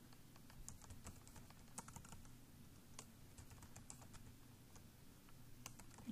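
Keys clatter steadily on a computer keyboard as a user ID is typed, with quiet, irregular clicks throughout over a low background hum.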